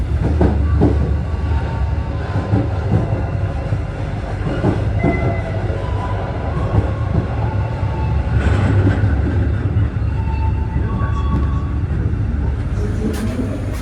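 Train wheels rumble steadily beneath an economy-class carriage, heard from a seat near the wheels, a loud continuous rolling noise with faint rattles and clicks layered in.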